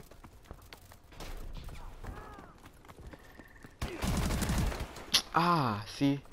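S12 shotgun blasts in Call of Duty: Advanced Warfare come in a loud burst of shots partway through, followed by sharper game effects. Quieter game noise plays at first.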